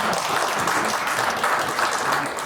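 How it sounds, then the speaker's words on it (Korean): Audience clapping steadily at a public debate forum in Busan, a dense, sustained wash of hands at close range with no voices over it. "박수를 다시 한번 쳐요."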